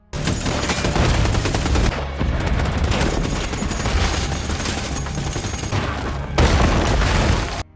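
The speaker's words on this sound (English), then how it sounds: "Roman goes inside to save Tom and Mo in the thick of the gunshots" Dense, loud gunfire and booming blasts from an attack scene in the movie Kandahar, with continuous volleys and bursts filling the whole stretch and brief drops between heavy barrages.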